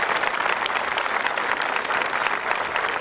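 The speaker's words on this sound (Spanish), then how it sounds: "Un aplauso para ellos." An audience applauds fourth-grade students after a flag pledge ceremony at school, a steady, dense wash of clapping that is loud and continuous throughout.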